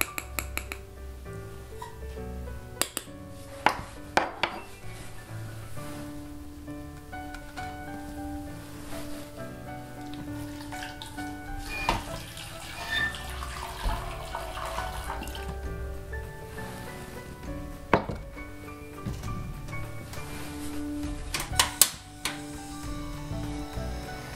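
Jerusalem artichoke and dandelion grain coffee boiling in a pot, with steady bubbling, scattered drips and occasional sharp clicks and taps, close and moderately loud throughout.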